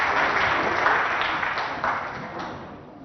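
A crowd claps steadily, a dense wash of applause that is fairly loud at first and gradually fades.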